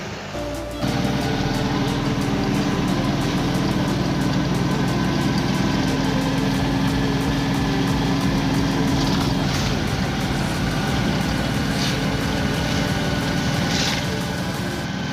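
A 2011 Bajaj RE auto rickshaw engine runs steadily in Kottarakkara, a loud, continuous, close-up drone that holds even for the whole stretch with no speech over it.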